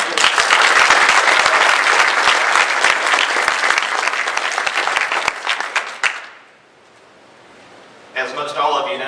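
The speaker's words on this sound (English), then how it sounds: "Let's give him a round of applause." A debate audience in Smithfield, North Carolina applauds loudly and steadily for about six seconds, fading to quiet before a voice begins speaking.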